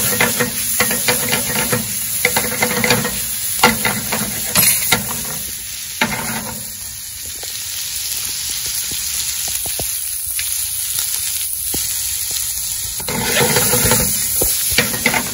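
Shrimp frying in garlic sauce, a loud continuous sizzle and hiss with occasional crackles and stirring scrapes, steady throughout with no voices.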